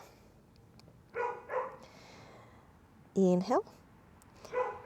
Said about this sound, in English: Excuse the dogs, it's one of the neighbors.